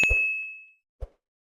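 A bright notification bell dings once, ringing out with a long fading tone, followed a moment later by a soft short click or plop, set against silence.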